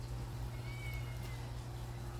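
A house cat meows in a home kitchen, its voice faint and muffled against a steady low hum, with no clear separate calls standing out.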